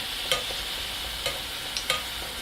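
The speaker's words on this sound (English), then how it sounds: "you're going to let it fry till it gets a little golden brown" Puris fry in hot oil, a steady close sizzling hiss broken by a few soft taps of a utensil.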